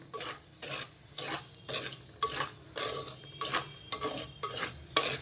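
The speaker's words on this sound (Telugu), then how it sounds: "కుండ కదా మనం అలా వదిలేస్తే అవి మాడిపోతాయి అందుకే కొంచెం తిప్పుకుంటున్నాను నేను" Millets are stirred by hand in a clay pot on a stove that has just been switched off, for making laddus. Close, rhythmic scraping strokes sound about twice a second against a quiet background.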